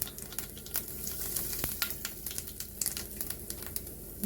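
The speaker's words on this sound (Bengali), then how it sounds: "তাতে 2 টেবিল স্পুন সরষের তেল দিয়ে দিয়েছি। এতে দিয়ে দেবো হাফ টিস্পুন সাদা জিরে গোটা" Whole cumin seeds and asafoetida sizzle in hot mustard oil in a wok, giving a steady close crackle with scattered sharp pops throughout.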